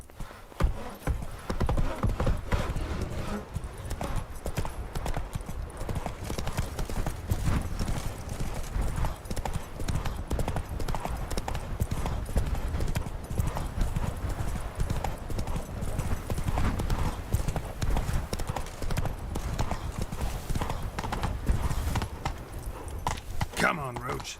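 Roach, Geralt's horse in The Witcher 3: Blood and Wine, gallops steadily with dense, continuous hoof clip-clops over a rumbling game backdrop for the whole stretch, with faint voices mixed in.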